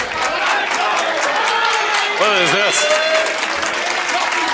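A wrestling crowd at a Limitless Wrestling match cheers and applauds for Eric Greenleaf, a dense, steady roar with a brief chant of voices rising through it, while a commentator's voice speaks over it.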